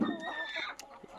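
Country hens clucking near a village poultry coop, a few short soft clucks and a brief trill, quiet and close, with a faint chirp near the end.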